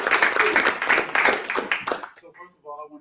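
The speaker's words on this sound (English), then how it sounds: "Let's give them a round of applause." An audience at a startup pitch event gives a round of applause: about two seconds of dense, close clapping that fades as a voice begins speaking.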